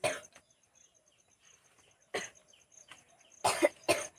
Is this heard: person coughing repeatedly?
yes